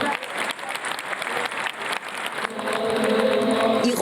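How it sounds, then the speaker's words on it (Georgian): Sustained audience applause after a Georgian women's choir performance in Rome, a dense wash of clapping that swells and continues steadily to the end. "იყო ძალიან ბევრი ტაში"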